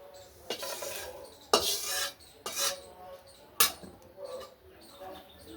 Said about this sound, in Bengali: এটি ভাজা হয়ে গেছে, আমি নামিয়ে নিব